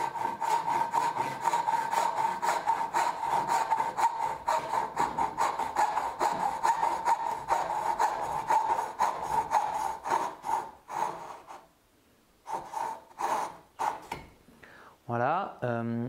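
A hand saw cuts wood for a dovetail joint, steady rhythmic rasping strokes close up, then pausing and resuming in shorter bursts near the end, with someone talking quietly over part of it.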